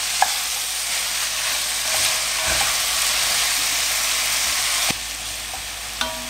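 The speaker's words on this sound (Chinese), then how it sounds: "稍微炒一下，让土豆和胡萝卜都沾上一点油。" Potatoes and carrots stir-fried in oil for a home curry, a steady close sizzle with the scrape and clack of a utensil stirring the pan, a few sharper knocks near the end.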